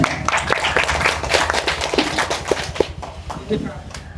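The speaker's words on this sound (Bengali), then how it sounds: "স্যারের জন্য সবার কাছ থেকে একটি করতালি আশা করতেছি" An audience claps for Dr. Jahangir Kabir at a second anniversary event, a steady patter of many hands heard near and fairly loud, with a voice speaking over it.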